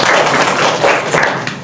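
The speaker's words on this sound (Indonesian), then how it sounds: "Ya, tepuk tangan Mas Halid ya." An audience claps for Mas Halid during a lecture, a loud, close burst of dense applause with pulsing waves of hand claps that taper off slightly at the end.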